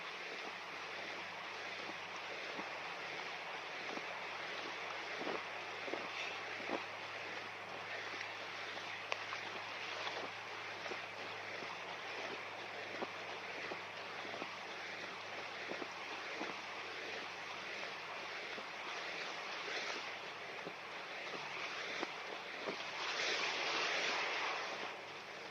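Ocean waves wash onto a Spanish beach with a bank of seaweed, a continuous soft surf rush with occasional swells and wind noise, nobody talking.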